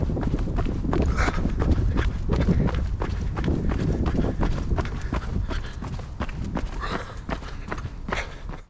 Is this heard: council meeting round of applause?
no